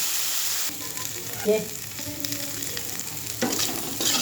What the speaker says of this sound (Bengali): গ্যাসটা আস্তে আস্তে দেবো আমি, আস্তে আস্তে ভাজাটা হবে